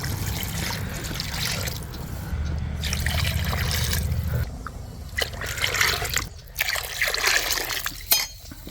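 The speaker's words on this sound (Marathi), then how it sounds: "मी नाही का हे उलत नाही ना त्याच्या मापावरती पाणी टाकतो" Water poured into a cooking pot of chicken pieces and measured against a spatula. It makes a close, steady trickling pour that comes in a few bursts with short pauses between them.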